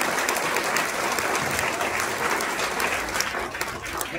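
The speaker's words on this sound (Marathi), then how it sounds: "त्या संस्था चालकांना सर्वांसाठी आपण एका टाळ्या देऊया." An audience at a school children's poetry gathering in a village claps steadily for several seconds, a dense, even wash of many hands with no speech over it.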